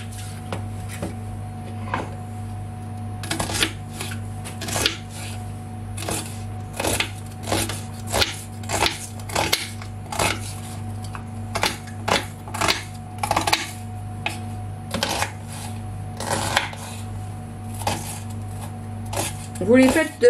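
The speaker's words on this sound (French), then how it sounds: "j'ai épluché les oignons et je vais les couper en petits morceaux" A knife chops peeled onions into small pieces on a board, steady rhythmic knocks repeating about once a second over a constant low hum in a home kitchen.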